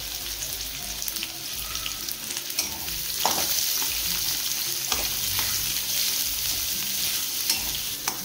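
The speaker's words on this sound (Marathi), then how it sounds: "हा कांदा टाकायचा आणि चांगला परतून घ्यायचा" Onion frying with cumin in a little oil in a kadai, a loud steady hissing sizzle throughout with occasional scrapes and taps of a stirring spoon, close and alone.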